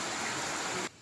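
Rain pours down on a cold day in a steady, even wash of noise that stops abruptly just before the end.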